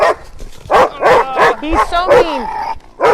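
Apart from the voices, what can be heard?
dog barking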